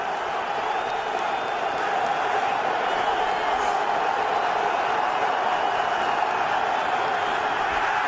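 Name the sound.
stadium crowd cheering at an NFL game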